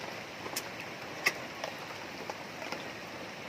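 Steady rain falls outdoors beside rice fields, a faint, even hiss broken by a few scattered drop taps.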